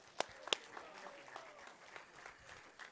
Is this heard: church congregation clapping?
yes